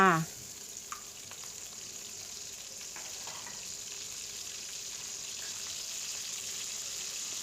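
Minced pork dropped into a hot pan for yakisoba bursts into a loud sizzle, then settles into a steady, even frying hiss with a few faint clinks, close by.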